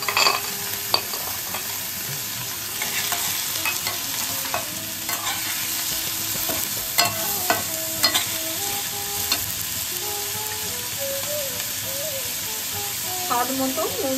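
Ginger, garlic and onion sautéing in a pan, a loud, steady sizzle and crackle with repeated stirring scrapes of a spatula, soft music playing underneath.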